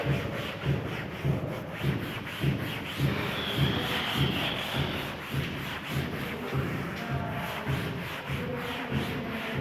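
Writing is rubbed off a classroom board in steady back-and-forth strokes, a soft rhythmic scrubbing with a dull thump on each pass, continuous and close, with no talk over it.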